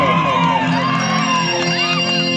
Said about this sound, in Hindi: भारत के लिए एक जोरदार ताली बजाओ आप लोग।